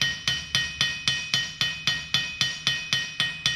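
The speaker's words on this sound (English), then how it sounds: "we hammer copper is to actually strengthen it through tension" Metal hammer strikes copper sheet in a steady, even rhythm, about fourteen sharp ringing blows with short metallic decays, close and clear with no talk.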